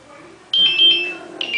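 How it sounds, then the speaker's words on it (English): A lunch alarm beeps in two loud bursts of shrill electronic tone, the second starting after a short gap, over a low background hum. "oh, that's my lunch alarm."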